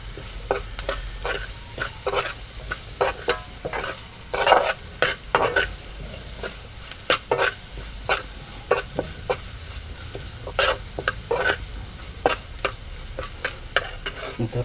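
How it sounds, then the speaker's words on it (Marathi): Onion sautéing in a pan for a parwal vegetable dish, a continuous close sizzle broken by repeated sharp scraping strokes of a spatula stirring, with no voices. "छानपैकी कांदा परतून घ्यायचा."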